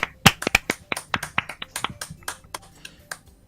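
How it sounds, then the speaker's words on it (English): A lone person claps by hand during a Doki Doki Literature Club session. The claps are loud, close and fairly quick, about twenty sharp strikes that gradually slow and soften. "I'm the first to start applauding."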